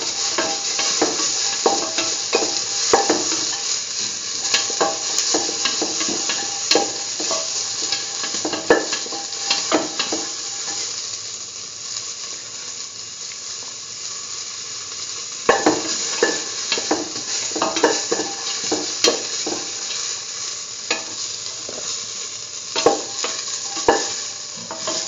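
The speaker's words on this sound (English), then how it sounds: "Thoroughly saute and mix." Potato mixture with onions being sautéed and stirred in a pan, a steady close sizzle with repeated scraping strokes of a utensil against the pan, alone without talk.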